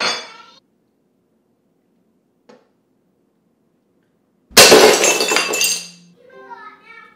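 Window glass deliberately smashed inside a house to test a home security alert: one loud burst of shattering glass with tinkling fragments that fades over about a second. Brief speech comes before it, and voices follow after.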